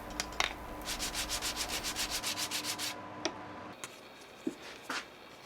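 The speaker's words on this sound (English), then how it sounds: "These can then get sanded in the same way as the log decorations" Wooden Christmas gift pieces being hand-sanded in a quick run of about fifteen steady, rhythmic rasping strokes, close and fairly loud, followed by a few scattered light knocks and taps.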